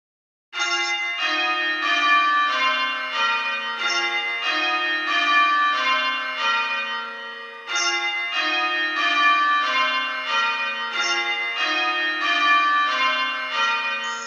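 Church bells ring Stedman method in a steady, continuous cascade of overlapping strikes, loud and unbroken with a brief gap midway, no voices.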